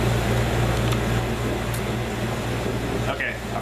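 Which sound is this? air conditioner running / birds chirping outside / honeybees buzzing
air conditioner running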